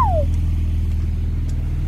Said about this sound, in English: A Porsche 911.